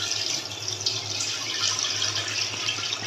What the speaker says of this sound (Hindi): सबसे पहले मैंने इसमें पानी शामिल कर दिया।